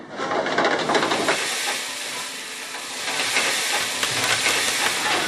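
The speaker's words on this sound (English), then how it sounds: "Just making some onions and mushrooms for the steaks." Onions and mushrooms sizzling in a pan while steaks are cooked, a steady, bright hiss that swells and eases, loud and close, with no talking.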